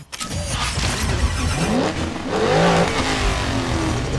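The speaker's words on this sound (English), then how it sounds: "Starting up our Camaro" Virtual Camaro in the racing game Asphalt 9 starting up, with a loud engine rev that swells and holds steady for a few seconds, rising pitch sweeps suggesting acceleration, and no talking.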